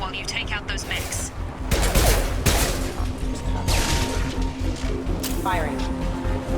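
Gunfire against security mechs in the video game Mass Effect 2, rapid bursts of weapon fire and impacts close up, loud and repeated throughout, with a voice speaking over the shooting.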